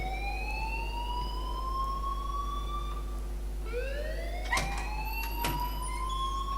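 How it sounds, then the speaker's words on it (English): An alarm in the video game Life Is Strange wails as a siren, with rising and falling sweeping tones that repeat steadily over a constant low hum, loud and continuous. "please turn off that alarm since that's your job"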